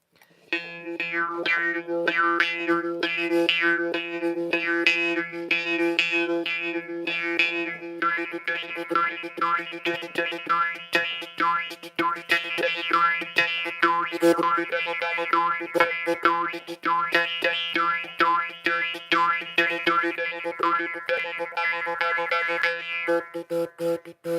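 A jaw harp plays a lively, rapid twanging tune with a steady drone and quick rhythmic plucks, close and clear, continuing unbroken for the whole stretch during a live session.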